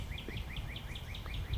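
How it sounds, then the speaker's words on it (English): Birds chirp in a quick repeated rising call on a shaded outdoor lot, faint and distant over low background rumble, a brief burst of song. "listen to the birds"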